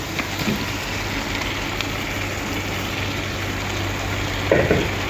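Tomatoes for a fish gravy fry in a pan with a steady, moderate sizzle and hiss that runs evenly throughout, with a brief louder clatter near the end.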